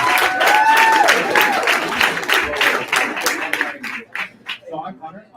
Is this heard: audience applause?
yes